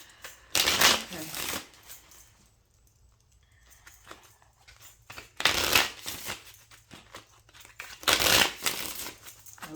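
A tarot card deck being shuffled in three distinct bursts of riffling, papery flutter, close and moderately loud, separated by quieter handling noise and a faint background voice.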